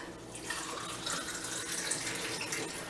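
Liquid poured steadily into a container, a continuous splashing, gurgling stream that stays fairly even and close for the whole stretch, with no talking over it.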